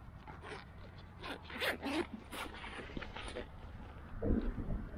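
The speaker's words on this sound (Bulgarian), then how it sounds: "Тук имаме друг цип." A zipper on a red waterproof-looking bag is pulled open and closed in several quick, sharp rasping strokes, close to the microphone, over quiet background rumble.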